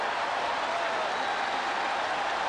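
A large stadium crowd at the 1988 Olympic men's 100m final applauds and cheers a world-record win, a steady dense roar of clapping filling the whole stretch with no pauses.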